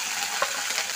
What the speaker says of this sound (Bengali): এবার এই তেলে ফুলকপিগুলো ভেজে নেব।